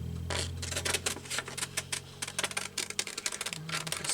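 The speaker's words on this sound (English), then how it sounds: "So let's cut that out." Paper being cut by hand for a homemade sewn card, a run of close, crisp snips and rustles that come in quick bursts over a low background hum.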